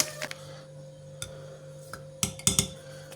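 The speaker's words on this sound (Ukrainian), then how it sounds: "тепер це все діло ми розмішуємо" A teaspoon clinks against a container while dry yeast, citric acid and sugar are stirred, sparse light taps early then a cluster of louder metallic clinks near the end, close and alone.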